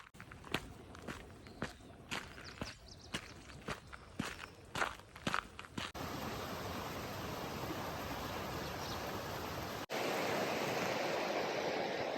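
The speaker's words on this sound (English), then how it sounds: "finally came to this creek, which I understand the trail follows for quite a ways." A creek flows beside a hiking trail on the Walker Ranch Loop outside Boulder, Colorado. Footsteps crunch on the trail at first, then give way to a steady, close rush of moving water that grows louder near the end.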